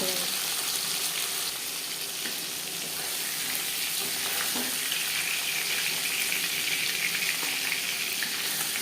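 Hilsa fish pieces fry lightly in a pan, giving a dense, even hiss of hot oil that stays steady and close throughout, with faint background clatter.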